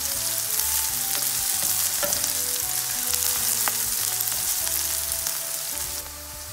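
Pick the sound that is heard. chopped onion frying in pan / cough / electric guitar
chopped onion frying in pan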